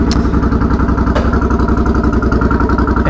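A 2013 Suzuki Boulevard M50 bobber with a 950 cc V-twin and nearly straight-pipe baffled exhaust runs close by, its steady loping idle thumping evenly throughout with a couple of sharp mechanical clicks.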